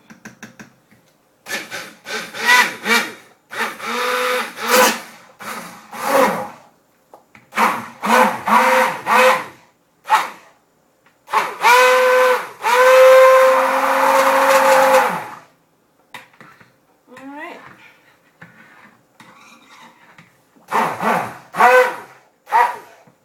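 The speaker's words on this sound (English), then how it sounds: "That's all the mixing I want to do with the stick blender" A handheld stick blender mixing soap batter whirs in repeated short bursts, then one long continuous run, pausing between pulses, close and loud.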